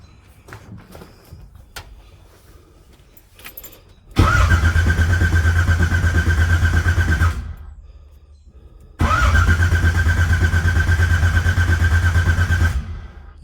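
Car engine on a TH400 transmission project with a freshly set distributor and no fuel pressure yet: two long, loud, steady cranking bursts with a whining starter tone, separated by a brief quiet gap.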